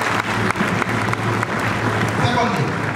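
Broadband clapping from an audience at a university convocation ceremony, a dense steady patter of many hands lasting throughout, with faint voices mixed in.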